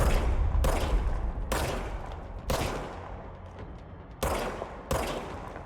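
Video game gunfire rings out in loud repeated volleys of rapid shots, each burst starting sharply and tailing off, about six bursts in a row with no talk over them.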